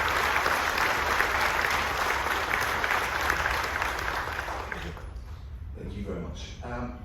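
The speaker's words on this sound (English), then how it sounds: "I'm going to start a round of applause" A large audience at a military appreciation gathering aboard the cruise ship Carnival Magic gives a loud, sustained round of applause that thins out after about five seconds, leaving scattered murmuring voices.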